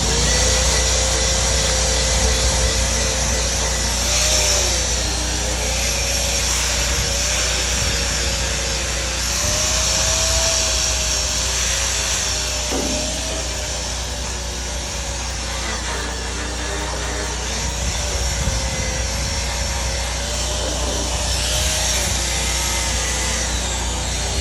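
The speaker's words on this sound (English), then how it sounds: "Wire wheel." A wire wheel scrubbing a structural steel field weld gives a continuous, loud power-tool whir with a wavering pitch and a slight dip near the middle, sustained for the whole stretch without speech.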